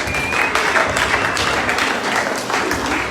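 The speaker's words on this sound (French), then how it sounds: "Acclamons pour le frère" A church congregation claps and applauds for a brother during a sermon, a dense, lively wash of hand claps lasting throughout.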